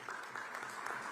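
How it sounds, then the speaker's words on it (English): Audience applause at the Digii 100X AP education conference in Visakhapatnam, a steady wash of many hands clapping at even loudness throughout the short burst. "Hemant, let's give a big round of applause"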